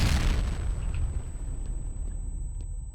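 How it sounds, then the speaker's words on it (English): A grenade explodes in the video game F.E.A.R.: one loud, close boom at the start that decays into a long, low rumbling tail. "that's a grenade, though."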